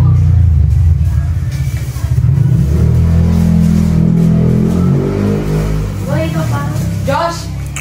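A 2000 Toyota Corolla's mid-pitched engine on a road test, rumbling steadily then revving, with a slight vibration, loud and close, with people talking over it toward the end.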